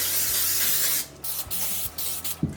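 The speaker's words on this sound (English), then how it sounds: "I'm going to spray it with some nonstick spray" An aerosol can of nonstick cooking spray hisses in a long continuous spray into a baking dish, followed by several short bursts with brief gaps between them, close up.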